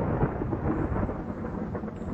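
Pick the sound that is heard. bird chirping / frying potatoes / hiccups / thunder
thunder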